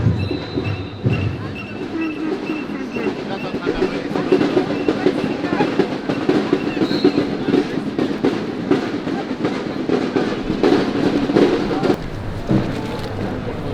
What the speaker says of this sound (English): ambience of the Christmas market here in Brussels